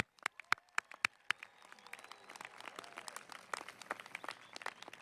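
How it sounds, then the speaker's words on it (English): Applause at a law school commencement ceremony: a few sharp individual claps at first, then building into a fuller spread of clapping from the audience, thin and somewhat distant. "deserves a round of applause."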